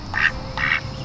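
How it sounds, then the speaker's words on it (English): A pet duck lets out two clear, close quacks about half a second apart, alone with no talk. "My duck."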